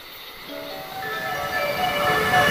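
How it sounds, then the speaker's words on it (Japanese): A train approaches and passes through a Japanese station platform without stopping, a rumbling roar that grows steadily louder with faint high tonal whines over it. "2番乗り場を電車が通過します"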